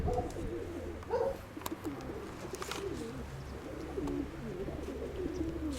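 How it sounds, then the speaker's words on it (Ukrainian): A white pigeon feeds two squabs that are not its own, giving soft, faint murmuring coos over a steady low background hiss in a pigeon loft. "Годує голубенят зараз."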